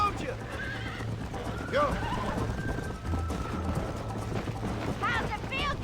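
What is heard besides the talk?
horse neighing and galloping in video game Red Dead Redemption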